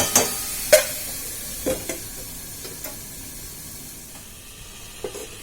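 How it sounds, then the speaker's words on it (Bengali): Ridge gourd sizzles in a covered pan while being stir-fried, a steady soft frying hiss broken by a few sharp clinks and scrapes of the spatula against the pan, with no talking. "ঢাকা দিয়ে দিয়ে একটু বেশ কষিয়ে নিই।"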